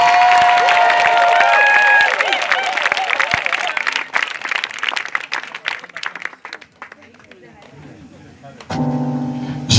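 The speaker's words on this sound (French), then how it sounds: "Donne-moi une acclamation si tu veux que j'accélère." Church congregation cheers and applauds loudly at a Christian service, a dense roar of clapping and shouting that fades midway, with a sustained organ-like tone swelling near the end.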